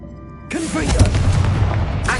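A spell explosion from the Confringo curse in Hogwarts Legacy bursts with a loud, close boom and crackling rumble that lingers for over a second, preceded by a brief spoken voice.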